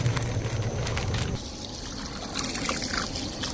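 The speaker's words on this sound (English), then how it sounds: "And so now I'm just rinsing it off." Water splashing and trickling steadily as a whole pig carcass is rinsed off, a continuous close spatter with no talk.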